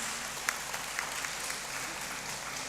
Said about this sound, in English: So a round of applause as he takes his seat.